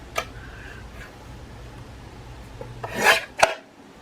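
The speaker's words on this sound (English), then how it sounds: "I'm just going to trim this one down to 5 1/4" Cardstock is cut on a paper trimmer, heard as a brief close rasping slide of the blade followed by a sharp click, after a few light taps and shuffles.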